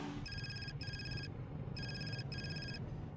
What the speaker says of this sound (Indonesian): Kalau Zara jangan diangkat.